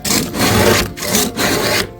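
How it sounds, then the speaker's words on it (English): A hand scraper dragged across a boat hull after pressure washing, giving loud, close, rasping strokes in a steady back-and-forth rhythm of about five passes, with no talking. "So after you pressure wash, usually we'll go over the scraper like this."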